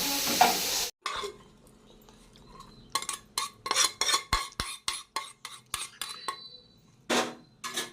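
Onions and chicken fry in coconut oil in a pan, with a loud sizzle broken by repeated stirring scrapes and short clinks of a utensil against the pan, in bursts through the whole stretch.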